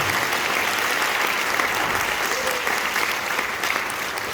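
A school concert band audience applauds steadily, with dense, even clapping filling the room at a constant level throughout.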